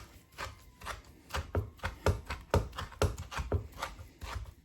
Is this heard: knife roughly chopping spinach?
yes